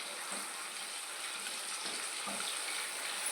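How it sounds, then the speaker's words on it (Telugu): Sweet potato pieces fry steadily in hot oil, giving a continuous, even sizzle with a few soft bumps as the pieces shift, heard up close with no talking. "చక్కగా ఎర్రగా వేగాలండి ఇవి."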